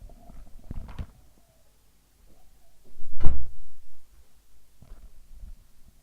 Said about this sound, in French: je ferme ma porte parce que il y a des cris derrière.